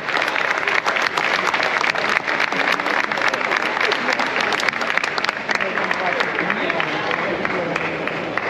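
A crowd applauds loudly and steadily for the giants and their small giant at a street festival in Palma, Mallorca, with dense clapping that runs throughout.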